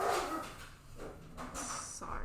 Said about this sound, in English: I had to take care of my dog